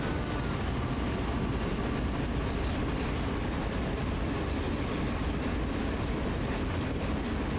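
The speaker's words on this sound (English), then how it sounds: "another train" A train passes in Train Sim World 2 on Sand Patch Grade, a dense, loud, steady rumble of rolling wagons and heavy engine noise filling the whole stretch without pause.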